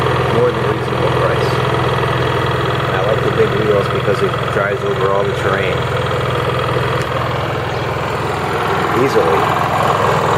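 Honda EU3000is generator running steadily with a constant engine drone and hum, loud and close, while someone talks over it for much of the stretch.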